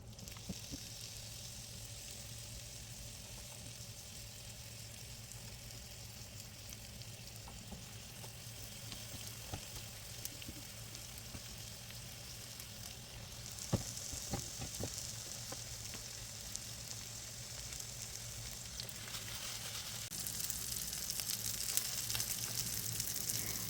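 Beef patties searing in a frying pan for Salisbury steak, a steady close hiss of sizzling throughout with occasional small pops and scrapes, growing slightly louder toward the end.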